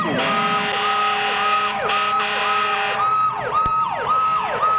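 Ambulance siren from 1978 wailing loud and close, its rising and falling tones repeating steadily with a brief sharp knock partway through.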